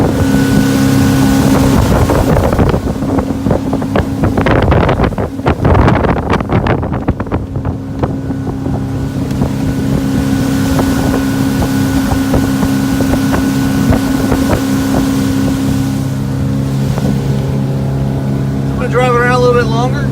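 A 2001 Four Winns 248 motorboat cruises on a lake with a loud, steady engine drone and heavy wind buffeting against the microphone throughout, and a brief higher whine near the end.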